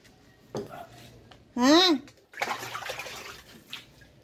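Water runs and splashes into a container being filled for a bath at home, in uneven bursts with clinks of a basin, while a person talks and a high voice cries out briefly.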